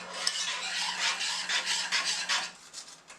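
Vanilla essence and a pinch of salt being mixed into a sweet batter, a steady wet stirring and scraping of a utensil against the bowl in repeated strokes, close and moderately loud, with no talking.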